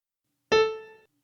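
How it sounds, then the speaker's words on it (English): A single grand piano note, the fifth key above middle C, struck once after a short silence and ringing clearly with bright overtones for about half a second before fading out, played alone. "We hit that piano key only at 3 seconds, and we played the 5th key above middle C."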